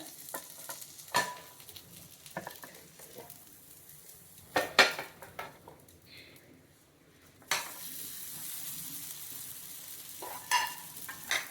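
An oats omelette fries in a pan after being flipped, with a soft steady sizzle, a few sharp clacks of a utensil or plate against the pan, and a louder hiss near the end.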